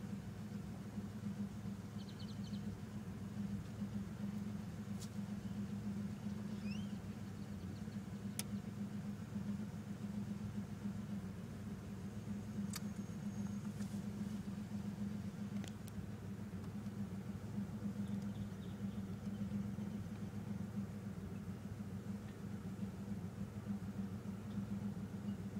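A car engine idles roughly with its ALDL diagnostic interface unplugged, running slow and unsteady below 1,000 RPM. It gives a steady, low, close rumble throughout with no talking.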